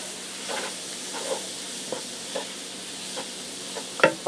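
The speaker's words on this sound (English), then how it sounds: "now I have my taco seasoning, and I'm going to give that a mix quick to get that mixed together" A utensil stirs taco seasoning into sloppy joe meat in a pan over low heat, with soft repeated scraping strokes over a steady faint sizzle and a sharper clatter at the end.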